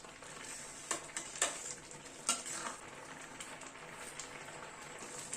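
Carrot halwa being stirred in a pan with date palm jaggery, a steady soft frying sizzle with several louder scraping strokes of a spoon against the pan, close and without talk.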